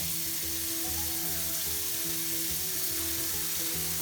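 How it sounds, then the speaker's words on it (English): Hot water runs from a tap into a plugged kitchen sink, a steady, loud broadband hiss and splash that stays even from start to finish, with no one talking. "And turning on the hot water."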